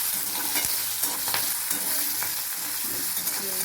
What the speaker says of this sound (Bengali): একটু ভাজা হোক নাড়তে নাড়তে ভাজা হয়ে যাবে এটা